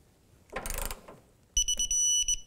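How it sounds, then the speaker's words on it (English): A ratchet with a 12 mm socket tightens the radiator mounts on a 2001-2007 Volvo V70, a short burst of clicking followed by a rapid ratcheting run with a high beeping tone of a torque wrench, close and clear. "And now we're going to tighten up, torque the actual mounts."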